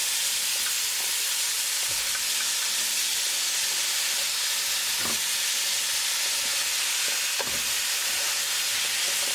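Frozen mixed vegetables sizzle steadily in a pan over a medium gas flame, a loud continuous hiss with occasional soft scrapes of stirring, no voices.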